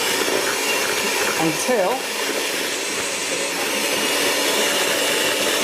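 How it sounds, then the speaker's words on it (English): An electric mixer whisking eggs and sugar for a Sri Lankan love cake, a steady high whirring drone running throughout, with a brief spoken word over it. "now we're going to whisk these up"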